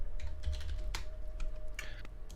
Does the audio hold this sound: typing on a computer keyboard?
yes